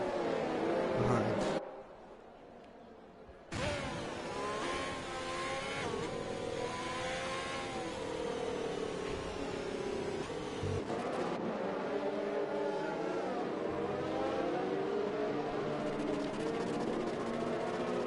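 F2 race cars on the Great Britain circuit in a racing video game drone with a continuous rising and falling engine whine as they weave around, under steady commentary.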